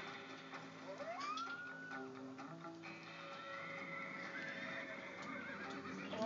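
Horses in the Red Dead Redemption video game neigh and whinny over steady hoofbeats, with the clip-clop of galloping continuing under a constant background of game ambience.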